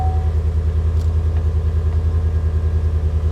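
A car from a Copart salvage auction idles with its air conditioning switched on, a steady low engine drone and blower hum with a faint click early on, close and continuous, with no one talking.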